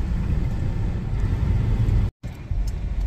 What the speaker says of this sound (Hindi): ट्रैफिक जाम हुआ है।